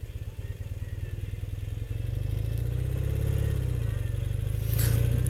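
Motorcycle on the road: a steady, loud engine rumble that rises gradually as the bike gains speed, close and continuous, with wind noise and no talk.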